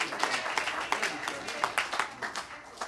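Church congregation clapping weakly, a thin, even patter of claps that fades over a few seconds, with background voices around it.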